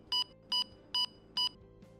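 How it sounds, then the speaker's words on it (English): An Aqua Groundwater Locator device sounds its alarm as four evenly spaced, bright electronic beeps about half a second apart, close and clear over faint background hum. "follow the device's pointing signal and voice alarm towards the target"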